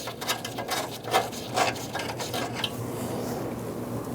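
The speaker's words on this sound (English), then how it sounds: "Now we just removed the bolts on the back side of the grill" A socket wrench works loose bolts on the grille of a 1997-2006 Jeep Wrangler, giving a few close metallic clicks and rattles over a steady background hiss.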